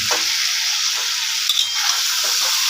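Potatoes fry with spices in a pan, a loud continuous sizzle with occasional stirring scrapes, close and steady, no voices.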